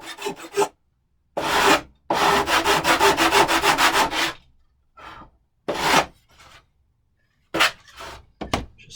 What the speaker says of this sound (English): we're just going to clean up the edge with my sanding block